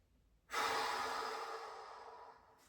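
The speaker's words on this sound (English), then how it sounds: "big breaths here" A long, steady exhale of deep breathing during a hamstring and lower-back stretch, one breath drawn out over about two seconds, close and soft, with no talking.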